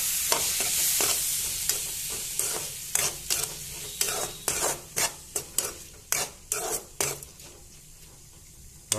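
Lentils and nearly cooked potatoes are stirred in a pan, a string of sharp, rhythmic scrapes and clacks of a spoon against the metal over a faint sizzle.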